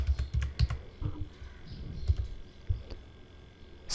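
Typing on a computer keyboard at an Ubuntu machine, entering a terminal command: a quick burst of close key clicks, a pause, then a few more scattered keystrokes.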